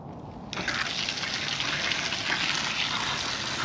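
Water gushes steadily into a bucket with drain holes, rinsing dug-up finds from black muck; the flow starts abruptly after a brief quiet moment and continues loud and close.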